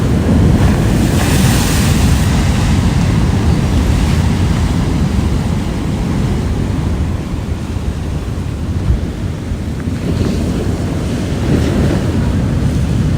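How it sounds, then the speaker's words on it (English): Steady, loud surf from waves breaking on volcanic rocks at Wyalup Point Beach in Bunbury, Western Australia, rolling and washing continuously with wind buffeting the microphone throughout. "Not the sort of place maybe you'd swim in, but love these waves."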